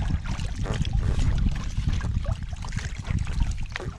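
A packraft paddled on Loch Shiel: steady close splashing and water swirl under constant low wind rumble, with no talking.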